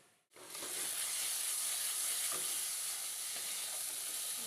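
Masala paste for palak paneer sizzles in hot oil, a steady bright frying hiss that starts abruptly after a brief pause and continues evenly and close by, with faint stirring scrapes underneath.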